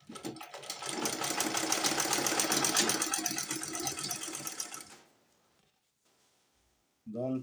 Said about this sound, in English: Oh, I am done sewing the second area.